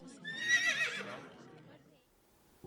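Horse neighing once, a bright whinny that rises then trails off, fairly close and alone, with a soft thump at the end.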